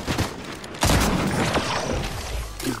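Shotgun blasts in the video game Fortnite, a loud booming burst with dense, noisy gunfire texture, a strong hit near the middle and another at the end amid continuous game action.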